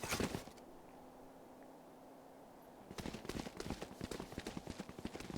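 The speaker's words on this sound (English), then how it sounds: "all these footsteps are gonna be heard" Rapid footsteps in Valorant during a Fall 2025 PCL Week 4 match between UNI Gold and Sitting Bull College Suns, heard as a dense run of close, crisp steps after a brief quieter stretch.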